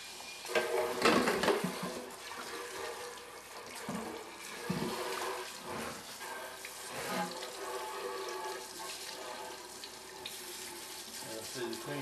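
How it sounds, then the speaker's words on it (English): Hot water runs from a tap as a cup is rinsed under it, a steady close splashing stream interrupted by clinks and knocks of the cup against the sink. "you clean it pretty much with hot water in the beginning"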